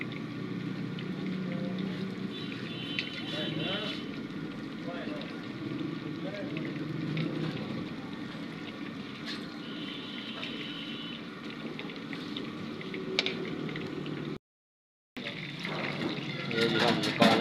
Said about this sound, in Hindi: ये देखो फ्राई हो रही है।